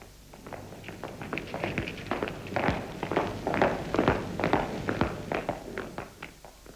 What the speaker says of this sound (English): Soon we were walking out to the aircraft.